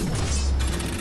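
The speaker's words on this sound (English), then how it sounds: "I got hit by a trap." A trap snaps shut in Fortnite with a quick mechanical clank and ratcheting rattle, loud and close, lasting about a second with no talk.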